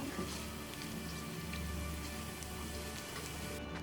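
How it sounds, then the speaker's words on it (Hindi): Onions frying with cumin, black peppercorns, black cardamom and curry leaves for kadhi pakora, a steady dense crackling sizzle that holds at an even level throughout. "इसे भी हम प्याज के साथ फ्राई कर लेंगे"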